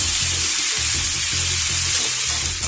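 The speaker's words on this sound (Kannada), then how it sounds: "ಸುಮಾರು ಒಂದು 4 ರಿಂದ 5 ನಿಮಿಷಗಳ ಕಾಲ ನಾನು ಈರುಳ್ಳಿನ ಚಂದ ಹುರಿದಿದ್ದೀನಿ" Chopped onions fry with a teaspoon of salt in a pan, giving a steady loud sizzle broken by soft, regular scraping strokes as the spoon stirs them.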